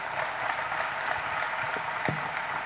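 Sustained audience applause at a Movistar Estudiantes basketball club season presentation, a moderately quiet, even wash of clapping with a few sharper knocks and thuds.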